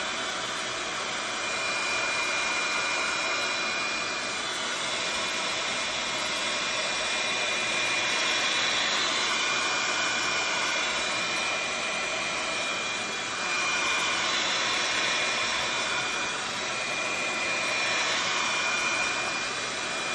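A heat gun blows a steady, loud roaring hiss across a fresh acrylic paint pour painting, its airflow swelling and easing slightly as it moves over the surface for about twenty seconds, with no voices.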